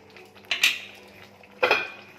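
Two sharp metallic clanks, a second apart, as a lid is set onto a pot of pomfret fish and eggplant curry on the stove, close and clear in an otherwise quiet kitchen.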